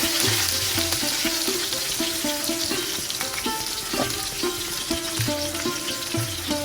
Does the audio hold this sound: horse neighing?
no